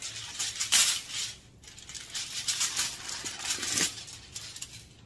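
Aluminium foil peeled off a baked homemade lasagna, giving close, bright crinkling and rustling in bursts over a few seconds, with a louder crackle near the start and again toward the end, no talking.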